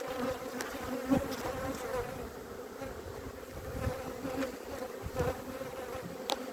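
A riled-up swarm of honeybees buzzes around an open hive during a swarm transfer, a close, continuous hum with individual bees droning past now and then and no voices.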